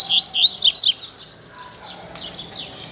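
A coleiro (double-collared seedeater) sings a quick series of bright, high chirps and trills, close and clear in the first second, then fainter calls and soft background ambience.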